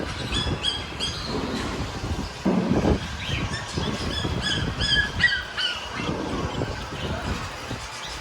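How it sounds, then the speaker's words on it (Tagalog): Many birds chirp and call at once in a busy, continuous chorus, with a low rumble of background noise underneath, at a pet market in Cartimar. "Daming mga ibon dito."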